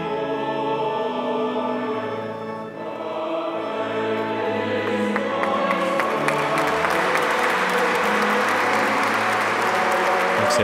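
Applause breaks out at a beatification Mass for Carlo Acutis as a relic of his heart is held aloft by a cardinal during a procession. Sustained tones play first, then crowd clapping swells and fills the rest steadily.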